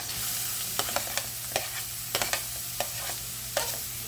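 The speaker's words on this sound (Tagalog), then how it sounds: "saka natin igisa yung mga lamas or mga ingredients" Garlic and other ingredients sautéing in a pan for pork binagoongan, a constant hiss of frying oil punctuated by repeated sharp clicks and scrapes of a utensil stirring against the pan.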